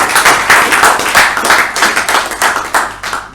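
A small group claps after a speech at a Toastmasters club meeting in Bangalore, loud and close, with distinct rhythmic bursts of hand claps pulsing steadily for a few seconds.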